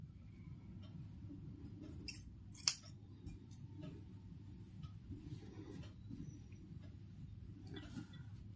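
Two quiet, crisp snips of scissors cutting crochet yarn while making a winter dress for a small idol, each one brief and close, over faint background noise with no talking.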